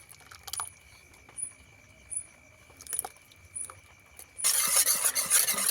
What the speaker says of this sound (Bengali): অল্প একটু জল দিয়েছি দিয়ে ভালো করে একটু মিশিয়ে নেবো